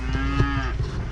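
A cow on a farm gives a single loud, close moo, a low drawn-out bellow lasting about a second.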